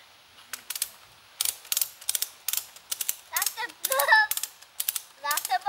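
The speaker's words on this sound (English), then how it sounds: "That's when you start ratcheting." A ratchet strap is cranked to tension a Tentsile Stingray tree tent at a family campsite in the trees, giving bursts of sharp rapid clicking that repeat steadily at close range, with no talk over them.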